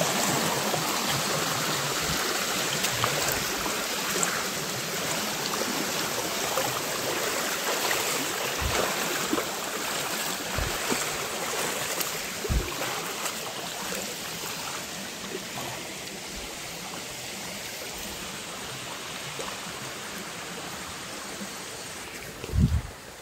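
A Konkan stream rushes steadily around someone wading thigh-deep through a narrowing channel while hunting crabs. The water keeps up an even close wash, broken by soft splashes and a louder slosh near the end.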